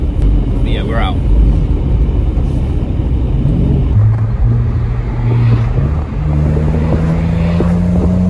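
Porsche 987 Boxster S driving in a convoy through the Cotswolds, a steady engine and road rumble close by with some rising engine notes, under voices talking inside the car.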